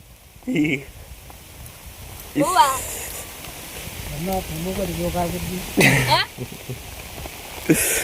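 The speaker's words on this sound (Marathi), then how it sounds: "पाऊस चालू आहे वाढला पाऊस" Steady rain hisses in the background while people talk intermittently over it.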